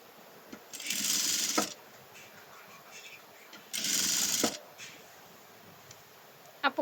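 A sewing machine stitches the neck of a maxi dress in two short, quick bursts of whirring with quiet pauses and light handling noises between them.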